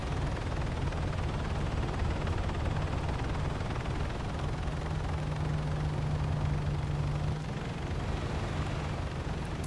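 A helicopter in the video game ARMA 3 drones on as a steady, loud, low rotor-and-engine roar, an unbroken wall of noise for the whole stretch with no one speaking.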